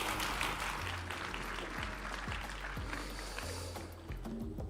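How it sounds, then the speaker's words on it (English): A conference crowd applauds after a mainstage talk, with a soft, diffuse patter of clapping under a low hum and some thumping sounds. "A big round of applause."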